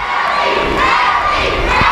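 A loud wrestling arena crowd shouts and cheers throughout, a thick roar of many voices with rising yells and whoops, close and sustained without a break.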